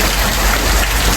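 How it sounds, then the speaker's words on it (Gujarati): Heavy rain pours down close by in a loud, dense, unbroken hiss of drops striking surfaces, with no voices. "તો કેટલો બધો વરસાદ પડે છે જુઓ"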